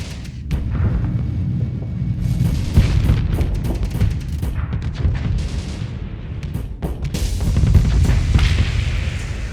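Light mortar fire in the space combat game Starsector, a continuous barrage of booming thuds and rumbling impacts with dense irregular rhythm, loud and close.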